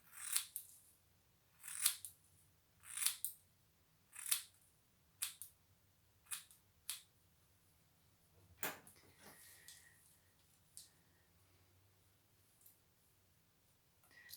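Scissors trimming a hair fringe, giving about eight crisp snips at a steady pace, close and clear. A few fainter clicks and rustles follow in a quiet room.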